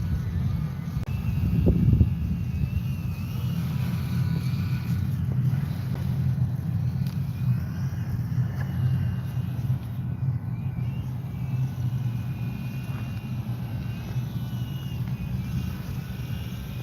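A small RC plane flies over a parking lot, its propeller engine a steady, moderately loud drone with low rumble throughout, swelling briefly near the start, with wind noise and no talk.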